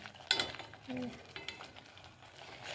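Masala frying in oil in a pan gives a quiet, steady sizzle, with a few scrapes and clinks of a utensil stirring it.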